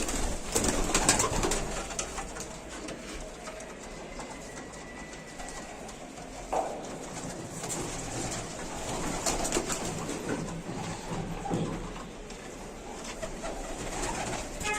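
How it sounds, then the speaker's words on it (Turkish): Domestic pigeons cooing in a decorated loft, soft steady murmuring calls running continuously throughout at moderate distance, with a faint background hum and no talk. "Çok güzel güvercinler var."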